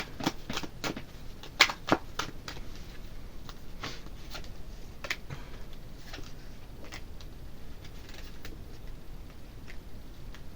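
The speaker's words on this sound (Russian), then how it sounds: "давайте еще пару карт вытащу" Tarot cards drawn from a deck and handled in a quiet indoor setting, giving soft, scattered flicks and light slaps at irregular intervals, with a couple of sharper snaps near the start.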